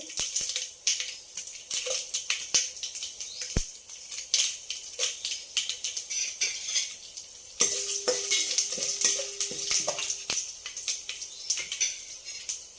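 Dried red chilies fry in hot oil for a sambar tempering, a steady close crackle and sizzle with occasional utensil clinks and a brief tonal ring near the end.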